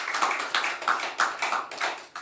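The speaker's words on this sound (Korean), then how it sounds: "잘했으니까 박수 한번 치겠습니다." A church congregation claps together during a Korean worship service, a short burst of about eight or nine sharp, fairly even claps in quick succession, moderately loud and without talk.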